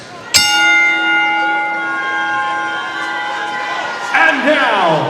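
A boxing ring bell is struck once, sharp and metallic, at the start of the Claressa Shields vs Danielle Perkins fight in Flint, Michigan. Its long ringing tone fades slowly over a steady arena crowd, which swells near the end.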